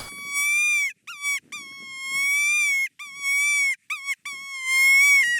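An RSS6 squeaker predator call mimicking a mouse or baby cottontail gives a series of high, piercing, drawn-out squeals in several bursts with short gaps between them, loud and close with no talking.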